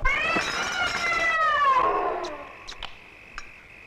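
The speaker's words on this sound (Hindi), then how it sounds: "इस बिल्ली को खाने की टेबल से दूर रखा करो" A cat lets out a long, loud, drawn-out wailing meow that bends downward and fades, followed by a few faint clicks and small sounds in a quiet room.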